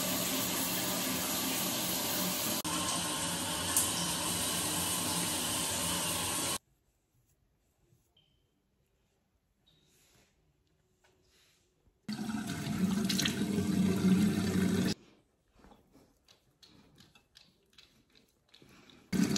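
Indoor shower water runs in a loud, steady hiss for several seconds, cuts off into near silence, then gushes again briefly before stopping, with faint clatter afterward.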